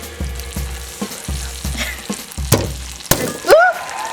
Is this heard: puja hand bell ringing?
no